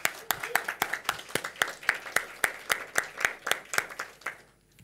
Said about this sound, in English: So, huge round of applause for all of you.